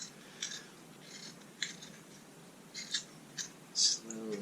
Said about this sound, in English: I'm just going to be trying to remove the wood.